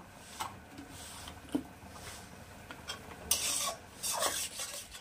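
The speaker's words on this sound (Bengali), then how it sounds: "একটু সামান্য জল দিয়ে গ্যাসের ফ্লেমটা হাই করে মশলাটাকে আমি আবার একটু ভালো করে কষিয়ে নেব" A spoon scrapes and stirs chana masala spices frying in a pan with a little water over a high gas flame, soft rasping strokes recurring irregularly, growing briefly louder and sizzling toward the end.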